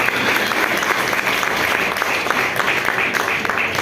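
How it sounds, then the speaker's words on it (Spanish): A church congregation claps together in dense, continuous applause that stays loud and close throughout, with no individual voices standing out. "Aplauda al Señor."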